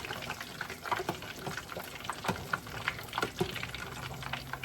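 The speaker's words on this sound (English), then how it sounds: "I use peanut oil for frying" Chicken patties fry in peanut oil, a soft steady crackle of small pops and sizzles, fairly quiet and close, with occasional louder spits.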